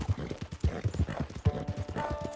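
Horse hooves clip-clop steadily in Red Dead Online, a close, even rhythm of soft thuds on the ground across the whole stretch.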